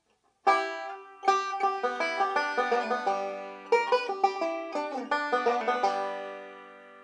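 A quick, bright banjo lick of rapid plucked notes in two phrases, with a short pause between them, played alone and fairly close; an instrumental ending lick.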